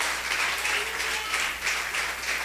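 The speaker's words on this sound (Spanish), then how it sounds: "Dale un aplauso bien fuerte al Señor." A church congregation applauds during a sermon, a full, steady roar of many clapping hands with a gently pulsing swell, fairly loud and close throughout the short stretch.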